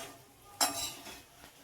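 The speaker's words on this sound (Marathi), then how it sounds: "आपल्याला मीडियम फ्लेमवर भजी तळून घ्यायची." Moong bhaji fry in oil over a medium flame, giving a faint, soft sizzle. A single sharp utensil clink stands out partway through.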